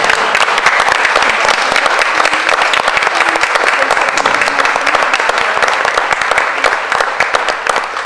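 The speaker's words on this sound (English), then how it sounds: "Please join me in applauding for Olivia Davis" A school board meeting audience applauds a student of the month, loud, dense and sustained clapping from a full room lasting several seconds without letting up.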